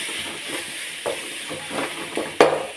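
Spices and salt sauté in a hot pan, chili powder and rock salt sizzling with a steady bright hiss. Soft scraping stir strokes recur every half second or so, ending on a sharper clack.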